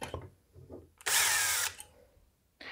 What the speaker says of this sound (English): we're gonna go ahead and mark the center of all these holes with this drill